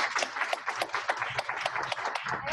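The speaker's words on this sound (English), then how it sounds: "Let's give everyone a round of applause," Applause from a modest audience at a book-writing panel event, a brisk run of individual claps at moderate volume, close and continuous throughout.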